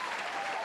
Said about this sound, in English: Got to give ourselves a round of applause.